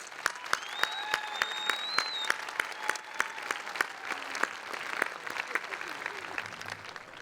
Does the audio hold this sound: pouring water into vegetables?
no